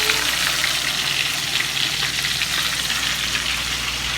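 Shrimp coated in cornstarch frying in hot oil, a steady, even sizzle and crackle heard up close and moderately loud, continuous with no voices.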